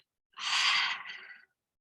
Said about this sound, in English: take those 3 deep cleansing breaths in through your nose, sigh it out